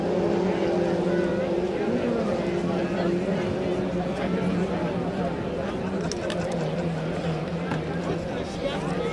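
Racing 2.5-litre hydroplane powerboats at a St-Félicien heat start roar in a continuous droning engine wash over water, with a commentator talking over it throughout.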